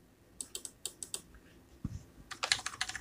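Keys clack on a computer keyboard in a quick run of close, crisp taps, then a short pause and a thud before a second faster cluster of typing presses, including Enter.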